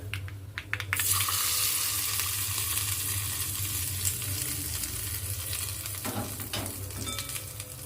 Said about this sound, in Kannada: ಈಗ ಇದಕ್ಕೇನದ ಸಾಸಿವೆ ಕರಿಬೇವು ಅರಿಶಿನ ಪುಡಿ ಹಾಕಿದ್ದು ಒಗ್ಗರಣೆ ಕೊಡೋಣ ಅಂತ